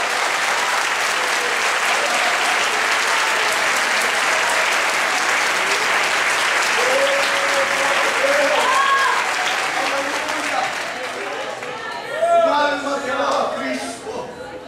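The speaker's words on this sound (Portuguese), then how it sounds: "Damos um aplauso para ele nessa noite." A church congregation in Marília breaks into loud, sustained applause during an evening service, steady clapping that thins toward the end as a voice rises over it.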